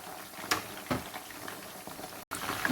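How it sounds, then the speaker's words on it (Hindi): Chicken fries in hot oil with a steady, close bubbling crackle and a few sharper pops rising out of it. "ये चिकन का कलर भी ब्राउन हो गया है और तकरीबन हमें इसे फ्राई करते हुए 10 मिनट हो गए हैं"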